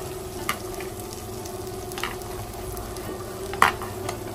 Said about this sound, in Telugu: ఇప్పుడు బీరకాయ వక్కలు వేసుకుంటాం.